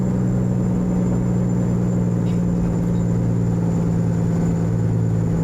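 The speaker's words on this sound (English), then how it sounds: "Oh, she sounds so good. I love the C15 too." Kenworth T800 flatbed truck with a Caterpillar C15 diesel engine in American Truck Simulator, a steady low droning engine rumble with a constant hum, held at even cruising load throughout, no talk.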